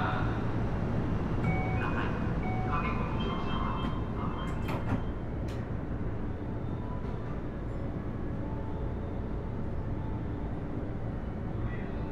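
Steady low rumble of a Keio Series 5000 electric commuter train departing as a Keio Liner service, with faint mechanical squeals and clicks rising over the hum.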